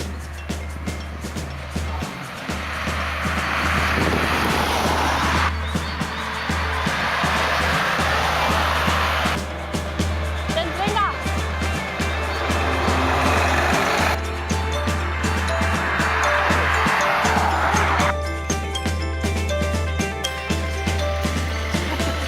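Cars drive past on a road, each one bringing a broad swelling whoosh that rises and fades. Several passes follow one another at moderate distance over a steady low background hum.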